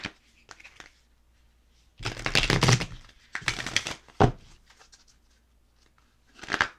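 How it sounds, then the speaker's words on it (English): Moonology oracle cards shuffled by hand in several bursts of crisp riffling and slapping, close and fairly loud, with short pauses of near silence between them. "Nice little shuffle."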